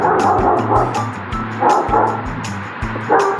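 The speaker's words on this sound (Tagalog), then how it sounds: "dahil sa asong walang tigil ang tahol sa kanyang harapan" A guard dog barks nonstop at a would-be bike thief outside a yard, loud, close and rapid, with sharp yips and whimpering tones mixed into the repeated volleys.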